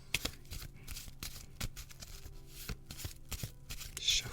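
Tarot cards are shuffled quietly and close up, a run of soft riffling flicks and taps in an irregular rhythm.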